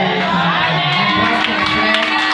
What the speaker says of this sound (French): Nous disons 3 fois Amen fort et on acclame le Seigneur